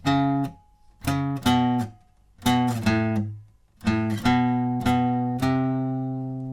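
An acoustic guitar plays a short melodic phrase of picked notes and quick runs, some notes left ringing, ending on a sustained decaying note.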